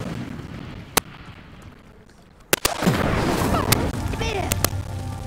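Incendio fire spell igniting a pyre in the game Hogwarts Legacy: a sharp crack, then a sudden flaring whoosh and sustained roar of flames with crackling bursts and a few chirpy magical tones, a voice speaking faintly underneath.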